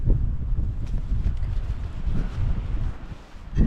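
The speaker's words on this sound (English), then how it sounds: "Oh my god, it's so windy." Strong coastal wind buffets the microphone on an exposed clifftop path along the Jurassic Coast in Dorset, a loud, continuous low rumble with gusty surges that dip briefly near the end.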